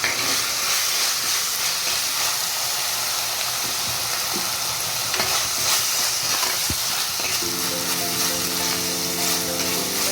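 Continuous hiss and crackle of crushed spices and curry leaves frying in a pan, close up, with occasional scraping and a brief tonal hum near the end.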